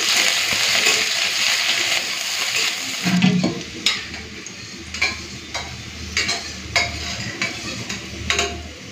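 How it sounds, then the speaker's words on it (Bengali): Urad dal being sautéed with chopped onion and green chili in mustard oil: a steady sizzle at first, then a series of spoon stirs and scrapes against the pan at a slow, uneven rhythm over the frying. "চলুন বিউলির ডালটাকে সাঁতলে নিই।"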